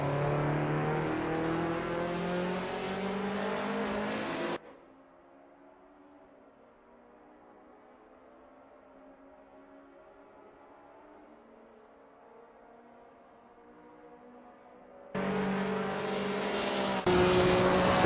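Classic touring cars on an out lap around the 1979 Oesterreichring in the Assetto Corsa sim give off a loud engine drone, which cuts to near silence for about ten seconds and then returns just as strongly.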